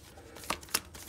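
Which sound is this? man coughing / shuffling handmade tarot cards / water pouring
shuffling handmade tarot cards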